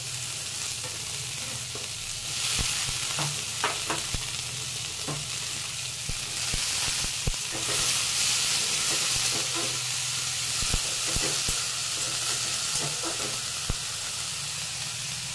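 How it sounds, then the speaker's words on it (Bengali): Vegetables with slit green chilli frying in a pan, a steady bright sizzle under repeated sharp clicks and scrapes of a spoon stirring against the metal. "একটু ভাজা হবে"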